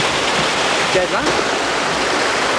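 A creek called Arroio Crioulo flows with a loud, constant rush of water that fills the whole moment, heard close by and without a pause.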